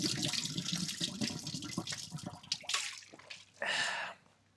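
Water gushes from a tap outdoors at Arcen Castle in the Netherlands, a rushing flow in uneven bursts that ends in one strong steady pour before cutting off.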